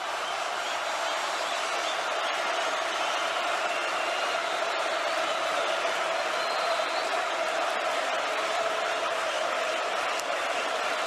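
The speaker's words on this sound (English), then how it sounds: "The crowd goes crazy." A basketball arena crowd roaring and cheering after a game-tying shot in the 2011 AmeriCup semi-final between Argentina and Puerto Rico, a steady, loud, continuous wash of noise with no clear breaks.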